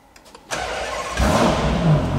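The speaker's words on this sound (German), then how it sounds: "Wir starten mal das Auto" A Ferrari Purosangue V12 SUV fires up: a brief starter whir, then a loud, sudden engine catch that settles into a steady, close rumble and swells further in a rising rev before holding at a strong idle.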